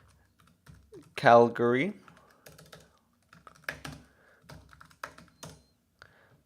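Typing on a computer keyboard while entering a place name into Google Maps, a few sparse clicks under a man's speech.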